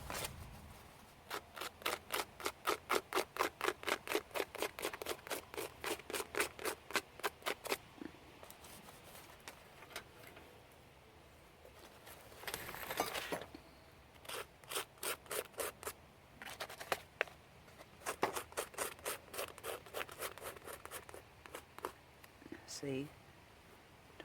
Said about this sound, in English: What if I scraped on some white like you would gesso?